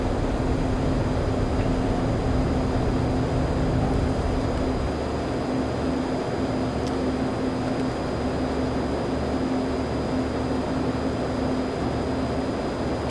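F-14 Tomcat jet engines at military thrust on takeoff in Microsoft Flight Simulator 2020, a steady loud roar with a low drone and faint high whine, constant throughout with no voices.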